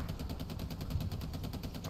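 Automatic machine gun fire from a World War II shooter game, a steady rapid rattle of shots running the whole moment with dense continuous bursts and no speech.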